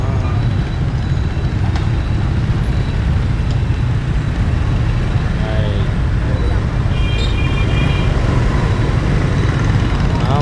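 Dense street traffic rolls past in Cho Lon, District 5, as a steady loud rumble of engines with occasional faint horns.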